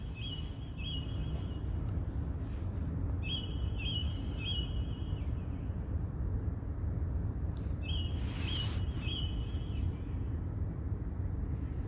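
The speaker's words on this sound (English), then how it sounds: "Y'all hear the birds?" Short bursts of high bird chirps repeat at night on a Philadelphia street, over a steady low rumble of traffic or wind, with quiet gaps between the calls.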